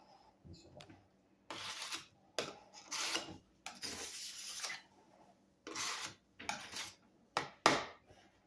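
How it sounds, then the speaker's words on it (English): Drywall mud mixed in a pan, with bursts of scraping and rasping strokes in an irregular rhythm separated by short pauses, close by and fairly quiet. "this is going to be our first run at mixing the pan of mud"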